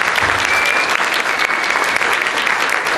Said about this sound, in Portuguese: Aqui eu peço uma salva de palmas aos patrocinadores.